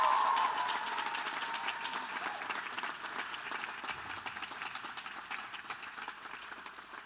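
Steady applause from a graduation audience honoring Miss Diana, strong at first and then holding at a slightly lower level for several seconds, with no talk over it.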